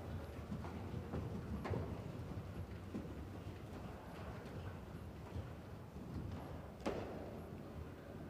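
Hooves of a horse walking at an equestrian riding day, soft irregular clip-clop steps faint against a steady outdoor background hiss, with no voices heard.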